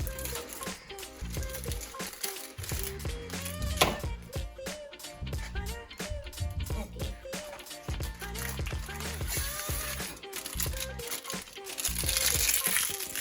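A plastic bag of rice is opened and handled in a home kitchen, giving a steady, close crinkling and rustling that runs throughout with a few sharper crackles and some faint talk.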